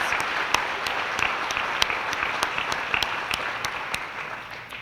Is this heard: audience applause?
yes